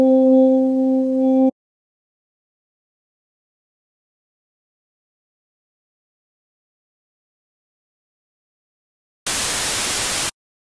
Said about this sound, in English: until the white noise alert